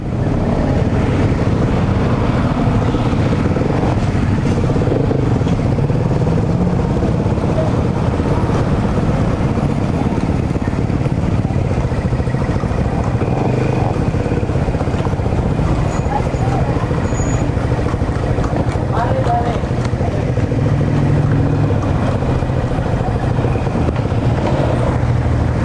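A motorcycle taxi engine runs in a steady, loud, rumbling drone for the whole stretch, mixed with wind and road noise, with people talking intermittently over it.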